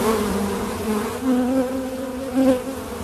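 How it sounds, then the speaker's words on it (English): Honeybees buzz steadily and close by in a beekeeping setting, a continuous droning hum that swells briefly twice, with no talking. "I don't think I'm bringing any bees in."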